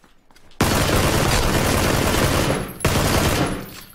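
Sustained automatic gunfire sprays in PlayerUnknown's Battlegrounds, a loud continuous burst that cuts off briefly and then resumes in a second long volley, with no talking.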